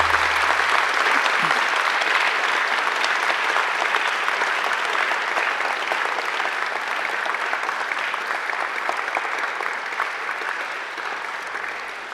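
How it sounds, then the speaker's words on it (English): Graduating students applaud their families and friends at a graduation ceremony, a loud, sustained crowd applause that fills the hall steadily for the whole stretch, easing slightly toward the end. "give them a mighty round of applause"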